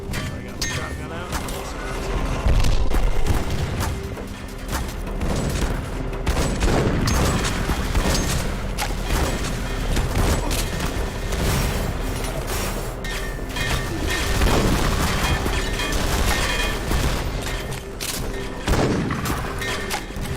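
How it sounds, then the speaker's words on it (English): Repeated shotgun blasts in a video game, heavy bursts scattered irregularly amid clattering action, with a player talking throughout over the gunfire. "I got the shotgun out."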